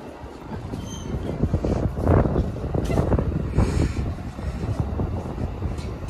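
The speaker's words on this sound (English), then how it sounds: "The train is going to downtown Chicago." An Amtrak train departs Homewood, Illinois station toward downtown Chicago, rumbling and rattling past at moderate distance, wheels clattering steadily with some wind noise, building slightly then holding.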